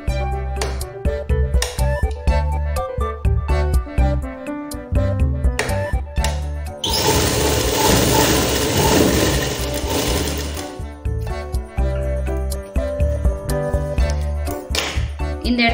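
A sewing machine stitches the lining seams of an umbrella-pattern frock gown, with choppy start-stop stitching and light clinks giving way to one long, loud continuous run midway before short bursts resume.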